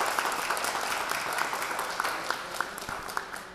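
A crowd claps steadily at an award ceremony for children's art and photo contests, dense sustained applause with a few sharper individual claps standing out, fading slightly at the end.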